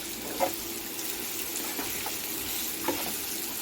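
Chili powder frying in a pan while a bitter gourd curry is being made, heard as an even close sizzle with a few light scraping stirs. No one speaks.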